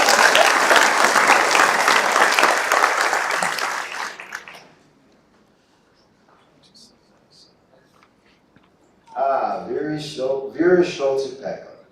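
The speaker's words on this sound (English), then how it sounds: "I'm gonna clap for you anyway." Clapping from an audience at a science institute gathering rings out loudly for about four seconds, then fades into near silence before a person begins speaking.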